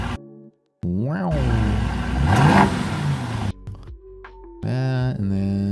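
A car engine revs, played back from a phone recording: a rising, whirring rev that swells and drops, heard fairly close, with someone talking around it.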